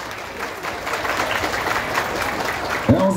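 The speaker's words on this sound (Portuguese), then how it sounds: "Aplausos por o presente." An audience at a municipal honor ceremony in Tiros, Minas Gerais claps steadily through a brief burst of applause, with a voice cutting in near the end over the clapping.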